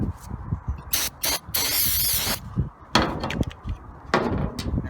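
Brake cleaner is sprayed onto the rear outer axle of a 1997 Dodge 3500 diesel dually in several short hissing bursts and one longer blast, close by, between scraping and clanking work noises.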